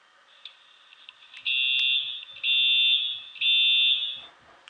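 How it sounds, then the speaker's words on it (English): A Simplex SmartSync Truealert fire alarm sounds three long, piercing, steady electronic tones in a row, each about a second long, with short gaps, heard at lowered volume and close by. "you can really play any sound you want through it, including the Truealert sound if you want"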